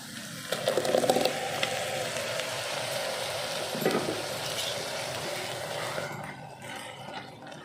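Ground masala paste frying in a pan for a Goan black chana and potato gravy, giving a steady broadband sizzle with stirring scrapes, louder in the first seconds and then settling to a softer hiss.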